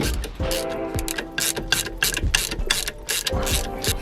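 A ratchet wrench with an extension loosening gearbox bolts during a TR-3650 transmission install on a Ford Mustang: rapid rhythmic clicking in repeated short bursts, close and clear, with no talking.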